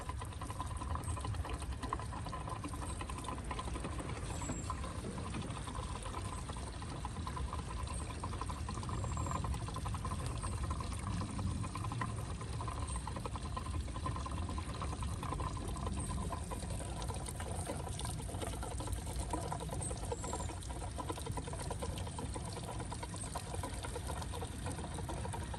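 Fuel pours into the tank of a John Deere X320 riding mower, a faint, steady liquid trickle over low background hum that keeps going without a break and has no talk.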